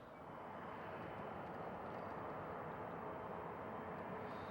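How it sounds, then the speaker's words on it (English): A KLM Cityhopper Embraer jet roars steadily at a distance on departure from Schiphol, a broad, even rumble that holds constant throughout. "Another KLM City Hopper Embraer 157."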